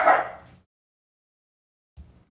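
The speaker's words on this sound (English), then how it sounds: "I'm going to mute quickly when my dog is barking" A pet dog lets out one loud close bark that trails off, then after a pause gives a second short, quieter yip, with silence around both.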